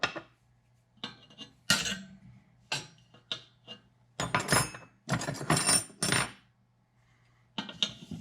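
Metal wrenches clink and clatter in separate bursts while one is picked out for rebuilding a Coleman 220F dual mantle lantern's generator, close and fairly quiet, with pauses between clusters of jangling.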